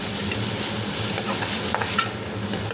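Grated coconut is stir-fried in a pan over a medium flame for mint chutney, with a continuous close sizzle and a few light scraping stirs on top.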